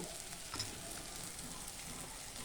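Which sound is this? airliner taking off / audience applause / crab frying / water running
crab frying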